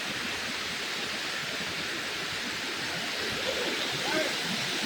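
Waterfall on a hiking trail with a steady, dense roar of rushing water that stays close and constant throughout, and a faint voice briefly near the end.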